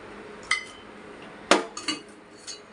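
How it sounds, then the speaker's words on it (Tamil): Black tea being strained into a tumbler: a few sharp metallic clinks and taps of a strainer and vessel against the rim, separated by quiet gaps, close and distinct. "இப்போ இறக்கி வடிகட்டி டம்ளரில் சர்வ் பண்ணிக்கலாம்"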